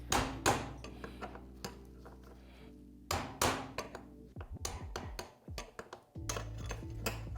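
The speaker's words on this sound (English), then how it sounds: "Now we're just going to use a punch and a hammer. We're going to hit that upper race out." Metal ringing blows as a hammer strikes a punch against a Yamaha PW50 steering stem bearing race, a series of sharp clanks in bursts with short pauses between them.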